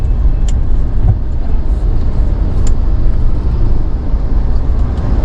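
Vehicles sit jammed on a congested Maharashtra road near a bridge, where police are stopping traffic. Engines rumble in a loud, close, continuous din, with a few sharp high clicks or toots breaking through; no one speaks.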